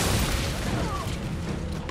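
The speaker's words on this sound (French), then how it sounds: "Là, il y a une grenade." Grenade explosion in the video game Army of Two, a loud, sustained rumbling boom filling the whole moment with broad noisy roar, no clear voices over it.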